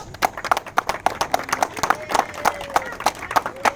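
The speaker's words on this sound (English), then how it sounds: "give another round of applause" A round of applause at a Scouts crossing over ceremony: scattered, uneven claps from a small group in a room, distinct individual hand strikes rather than a dense roar.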